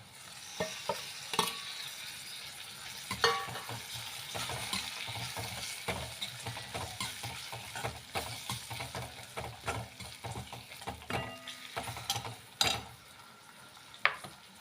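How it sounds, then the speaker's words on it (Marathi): Grated coconut and onion sizzle steadily in a pan, broken by frequent clinks and scrapes of a spatula stirring the mixture close up, with no voices. "ते पहा चांगलं परतलं आहे खोबर खीस आणि कांदा"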